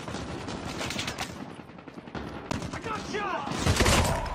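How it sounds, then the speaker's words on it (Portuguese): Automatic gunfire in a Call of Duty Mobile multiplayer match, rapid bursts of shots with a louder volley at the end, mixed with game sound effects. "ainda consegui atirar nele"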